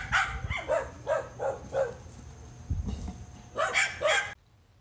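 Dogs barking and yapping in a backyard during fence fighting, a rapid series of close, sharp barks in bursts with a brief pause, then a few more barks before stopping.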